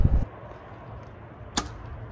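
A single sharp thud of an arrow from a Mathews V3 bow striking a foam 3D archery target, brief and fairly distant, against a quiet outdoor background.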